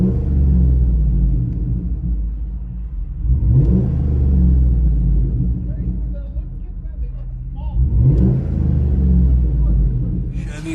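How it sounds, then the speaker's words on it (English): A 2010 Chevy Silverado with a 5.3L V8 and straight-piped dual exhaust, muffler removed, rumbles loudly and close by, rising in two deep revs around the middle and near the end of a steady idle. "we cut off the muffler, the Super 10. It wasn't loud enough, and we straight piped it for him."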